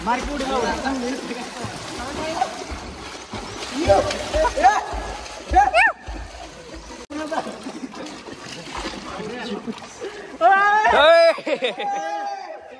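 People swimming in a natural village well make loud splashes in bursts, several close together, under and between excited shouting voices echoing off the well walls.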